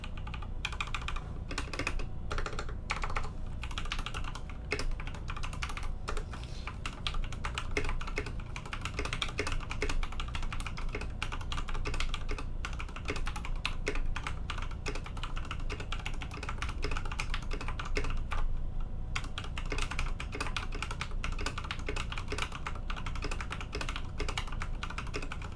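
Continuous close-up typing on a Nokia 268 mechanical keyboard with black switches and an NT3 keycap set: a fast, irregular stream of clacky keystrokes with occasional brief pauses and no voices.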